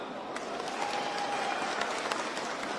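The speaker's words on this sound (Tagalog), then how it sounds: "Palakpak." Applause from an audience at a government livelihood and start-up incentives launch event, a steady, fairly faint wash of clapping lasting a few seconds with no talk.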